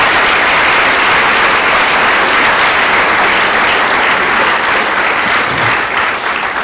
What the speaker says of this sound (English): let's give all those people that got awards in Japanese a big round of applause.